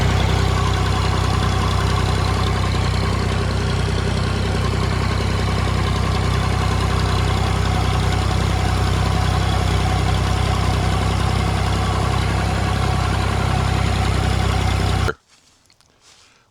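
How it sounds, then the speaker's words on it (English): A Massey Ferguson 240 tractor engine runs with a two-bottom plow attached, a loud, steady low diesel drone holding for about fifteen seconds before cutting off abruptly into near silence. "I was doing like a little test run with my little Massey, the Massey Ferguson 240, and the two-bottom plow"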